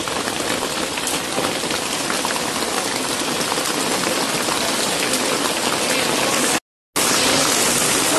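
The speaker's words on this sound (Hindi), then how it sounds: "तो ओले ही ओले आ रहे हैं" Hail pelts down in Delhi as a dense, loud, unbroken clatter. There is a brief cut to silence near the end, then the clatter resumes.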